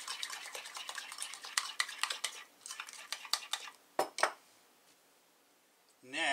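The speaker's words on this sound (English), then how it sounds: "we're going to mix it up a little bit and loosen it up" Spoon or utensil stirring and scraping ingredients in a bowl while cooking pecan-crusted goose, with rapid irregular clinks and scrapes up close, then two sharper knocks and a quiet pause before a brief rising noise at the end.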